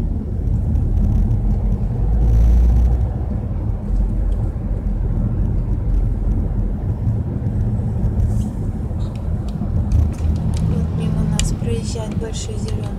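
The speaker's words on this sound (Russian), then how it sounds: "Большой зеленый автобус," A large green city bus passes on a warm city street, a loud continuous engine rumble and road roar filling the clip, with people talking over it.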